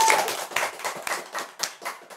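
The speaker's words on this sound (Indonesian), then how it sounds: "Tepuk tangan dulu dong." A small group claps hands in a short, uneven burst of separate claps at an Indonesian TV segment, close and fairly quiet, fading after about two seconds.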